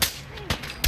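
Gunfire in the Fallout 4 video game, with a few sharp cracks in under a second: one at the start, one in the middle and a louder one at the end.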